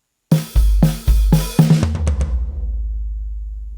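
A short drum rhythm played around the rack and floor toms of a Roland electronic kit: a handful of punchy, booming tom hits in quick succession, then a low tone that slowly fades out. No voices.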